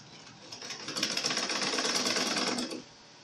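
A sewing machine hems the top of an A-line skirt, running in one steady close-up burst of rapid needle chatter for about two seconds before stopping.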